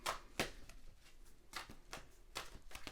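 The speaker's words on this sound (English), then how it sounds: "So I'm going to shuffle your cards now." Quick riffling bursts of cards being shuffled, several crisp flurries spaced through the clip, close by and fairly quiet.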